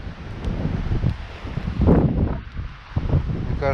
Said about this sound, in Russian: Ветрище. Ураганный ветер.